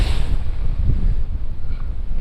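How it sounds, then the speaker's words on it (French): Strong wind during a kitesurfing session on the water, a loud blustery rumble buffeting the microphone without a break, with no talk. "ça tombe bien, il y a du vent"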